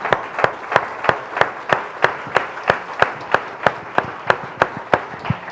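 A church congregation claps together in steady rhythm, about three claps per second, sharp and even throughout, with a faint murmur underneath.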